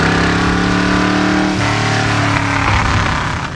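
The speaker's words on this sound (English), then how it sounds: "The big block, Shelby Cobra" A big-block 427 Shelby Cobra engine revs loudly and close up, a steady rumbling idle rising to a sharper rev before dropping back, with no voices present.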